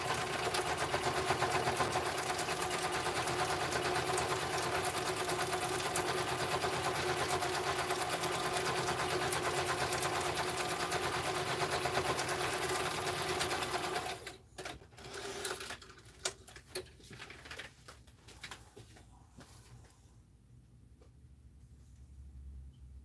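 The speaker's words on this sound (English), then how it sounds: "run to my sewing machine real quick" A sewing machine stitching a strip of fabric scraps runs in a steady, close whirring buzz for about fourteen seconds, then stops, followed by a few faint handling clicks and near quiet.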